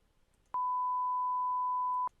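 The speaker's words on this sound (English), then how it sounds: "Okay, so this is playing what we call a sine wave." A steady 1000 Hz sine tone from a signal generator plugin holds flat and pure for about a second and a half, then cuts off abruptly, with no talking.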